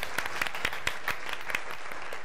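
A small TV studio audience claps, sharp distinct hand claps landing in an irregular rhythm over a soft steady background, close and moderately loud.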